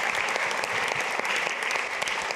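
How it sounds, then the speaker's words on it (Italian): Theatre audience applauding during a live Italian comedy show, a dense, steady wash of many hands clapping at close range, heard on its own without talk. "qui facciamo un applauso, li ringrazio"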